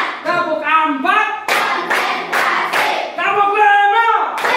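Schoolchildren in a primary classroom chant together in a counting clap game, with sharp group hand claps falling in bursts between their sung phrases, loud and close.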